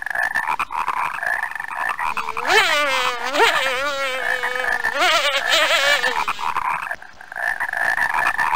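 Frog bugs croaking in The Cute Company PC game, a loud, close run of warbling, bubbly croaks over a buzzing insect-like drone that continues alone before and after.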